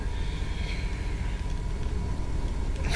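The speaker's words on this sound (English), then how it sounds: "The really weird noise you can hear in the background is the fuel pump." Steady droning whine inside a light aircraft cabin on a VFR flight from Inverness to Oban, the fuel pump buzzing continuously beneath engine noise, with a tonal hum that rises and falls slightly throughout.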